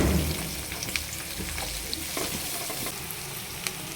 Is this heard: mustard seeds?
yes